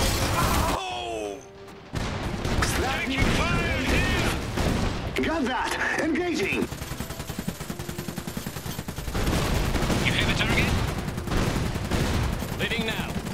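Dense rapid gunfire and heavy cannon blasts from a battle in the strategy game Iron Harvest, an assault on a train station, loud and continuous with bursts of machine-gun fire, a short lull, and unit voice lines over the fighting.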